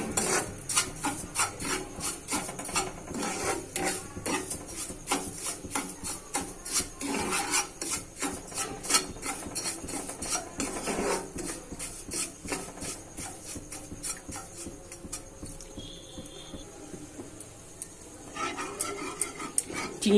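Sugar being stirred into hot ghee in a pan while making semolina, a steady scraping and rasping of the spoon against the pan with a dense, continuous texture of repeated strokes, close and fairly loud.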